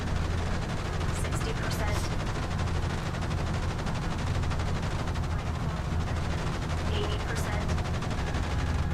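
A spaceship's guns in Genesis Alpha One fire in a dense, continuous rattling barrage that stays steady and loud throughout, with a synthetic voice briefly calling out progress over it.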